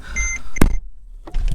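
A 2004 Mercedes CLK500's warning chime sounds a few short tonal beeps up close, then a brief thump and quiet; the car is flood-damaged.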